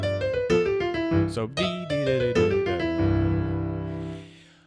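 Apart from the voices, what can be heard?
jazz piano one-note slide into a note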